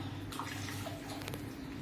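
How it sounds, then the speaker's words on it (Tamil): A brief, steady stream of water pours and splashes close by into a cooking pot of lentil dumpling curry, with no talking. "இன்னும் கொஞ்சம் தண்ணி ஊத்தணும் இதுக்கு"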